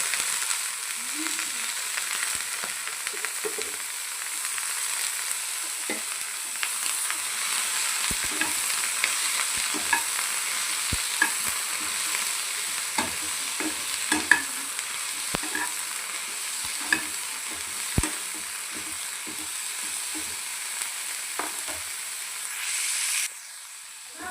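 Coriander and mint leaves frying in a pan for veg biryani, a steady broad sizzle and hiss running throughout with scattered stirring clicks and scrapes, close and alone without talk.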